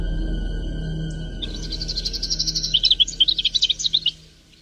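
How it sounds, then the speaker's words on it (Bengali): Tailorbird in a cartoon letting out loud, rapid chirping calls, a burst of repeated bright tweets rising in strength over steady background sound before ending abruptly. "ঠিক তখনই টুনি পাখি খুব জোরে চিৎকার করে ওঠে"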